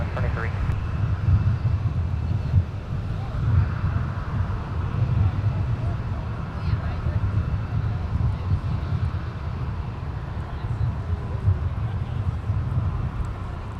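Airliner departing MSP airport, a distant low rumbling jet roar with wind buffeting, steady and moderately faint, with radio-style talk over it.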